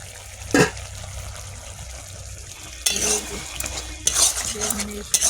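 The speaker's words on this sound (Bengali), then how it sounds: "ঢাকা দেওয়া ঢাকনাটা খুলবো" A metal lid lifts off a covered cooking pot during an egg and brinjal ghonto: one sharp clink, a pause, then clattering metal and rattles over a low background hum.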